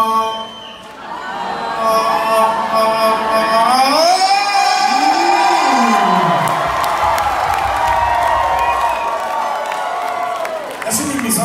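A live audience at a rap show cheers and shouts loudly and continuously, with whoops and rising voices swelling over a steady crowd roar for the whole stretch.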